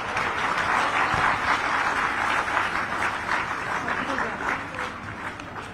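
Sustained audience applause at a government ceremony in Ranchi where appointment letters are handed out, loud and dense clapping running steadily throughout with a faint murmur of voices beneath.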